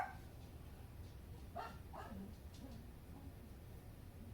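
Dogs bark faintly in the distance, giving a few muffled woofs and yips against a steady background hum.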